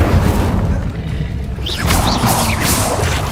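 An Incendio fire spell blast in the Hogwarts Legacy video game: a loud, dense boom under a rushing roar, followed by crackling, whooshing bursts of flame close up.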